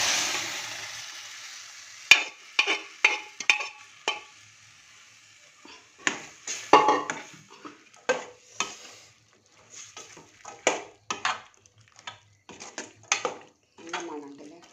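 Chickpeas tipped into a pan and sautéed with ginger and green chili, bringing a soft sizzle and repeated sharp scrapes and clinks of a spoon against the pan in an irregular stirring rhythm, close up.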